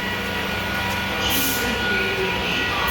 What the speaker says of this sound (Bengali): ট্রেনটি এখনই ছাড়বে